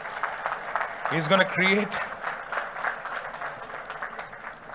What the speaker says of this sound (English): I think he deserves a bigger round of applause, guys.